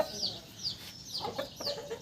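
Soft clucking from a rooster, a few short calls over a low background murmur, fairly quiet and close.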